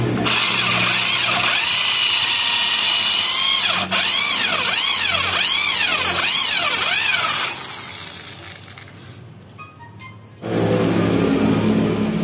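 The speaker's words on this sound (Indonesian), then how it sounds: "kita bor dulu menggunakan mata bor 7 mili" A power drill with a 7 mm bit bores out a stripped bolt seat on a CVT housing, a loud whining motor with rising and falling pitch under load, then easing down before starting again.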